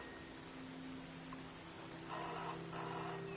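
A telephone rings in the video game Season: A Letter To The Future, two short bursts of bell tone near the end over a quiet, steady ambient hum.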